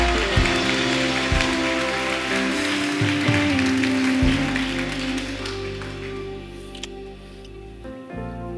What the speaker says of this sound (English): Clap like you believe God's a miracle working God.